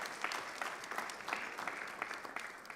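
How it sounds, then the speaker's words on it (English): An audience at a youth steering committee meeting applauds the moderator, continuous, even clapping heard faintly and at some distance, with no talk over it. "Can we give a round of applause to moderator"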